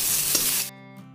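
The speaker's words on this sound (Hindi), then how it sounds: "तो हमारा टोमेटो अच्छे से भून चुका है, सॉफ्ट हो गया है।" Chopped tomato fries in a kadai with a bright hissing sizzle that is close and steady, then cuts off abruptly after about half a second, leaving quiet humming tones.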